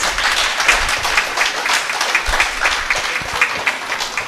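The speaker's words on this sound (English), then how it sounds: "Can we have a big round of applause," An audience at an insurance sensitization programme applauds, with steady overlapping clapping from many hands throughout, moderately close and with no clear speech.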